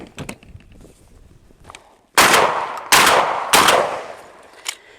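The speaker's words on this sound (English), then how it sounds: "So I'm going to shoot it and show you that it works." A Benelli semi-automatic shotgun fires shells: three loud, booming shots about a second apart, close by, preceded by faint clicks and handling noise.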